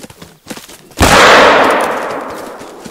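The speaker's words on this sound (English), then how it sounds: "How can you not hear all these gunshots?" A single loud rifle shot in the hunting game theHunter: Call of the Wild cracks after a second of quieter clicks, its booming report ringing out and slowly decaying over the next two seconds, with no talk.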